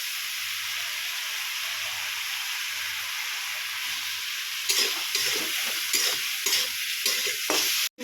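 Chopped tomatoes fry in a pan for a Bengali fish curry, a steady close hiss with soft low bubbling, then scraping stirs and clinks from about halfway before a brief cutoff at the end.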